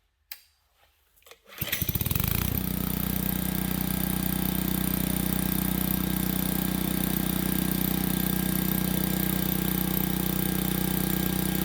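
A Kawasaki generator engine, a trash-picked unit, starts after a short quiet moment and then runs steadily and loudly close by, a constant droning hum with no talking.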